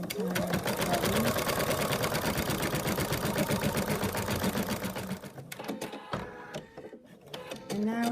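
An embroidery machine stitches a placement outline for a fabric body piece with a rapid, steady mechanical whir and needle chatter, close and continuous, then slows into irregular clicks and thumps near the end.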